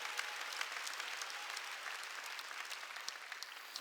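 Steady applause from a church congregation filling a worship service, dense and continuous with many hands clapping together at an even level throughout.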